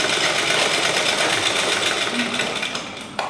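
A sewing machine stitching the shoulder seam of a chudithar top, running in a loud, steady, close-up whir that barely changes before a brief click as it stops.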